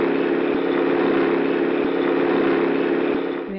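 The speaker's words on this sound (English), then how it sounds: "Noise of the engine of a vehicle is the example of sound of low pitch." A loud, steady engine hum drones continuously at close range, easing off slightly at the very end.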